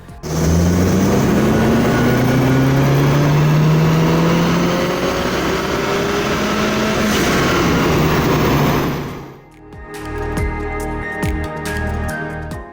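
A Renault Clio RS engine revs hard on a dyno and steadily climbs in pitch for several seconds, loud and close, then drops away to a rougher idle with intermittent bursts.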